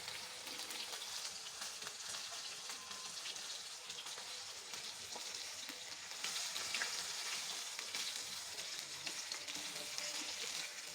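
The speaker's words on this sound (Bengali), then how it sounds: "এপিঠ ওপিঠ করে ভেজে নিতে হবে।" Chicken chap pieces fry in a pan over lowered heat, a steady close hiss of sizzling oil that runs without a break and swells slightly louder partway through, with no voices.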